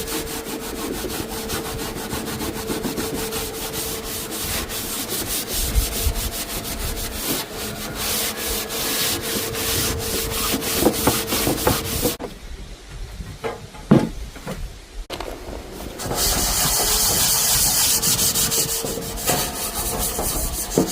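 Upcycled metal roof vents are sanded down outdoors in windy conditions, giving continuous rapid rasping strokes that run close and loud, with a brief quieter break before the scraping resumes.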